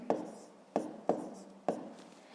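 Pen or pencil writing numbers during a fifth-grade math exercise, four short scratchy strokes at even intervals, each with a quick attack and fading rub, close and quiet.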